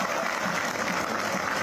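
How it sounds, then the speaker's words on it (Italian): Long applause from Catania fans in a football stadium in tribute to a young supporter, a dense steady wash of clapping filling the whole moment without pause. "poi un lungo applauso per rendere omaggio al piccolo tifoso"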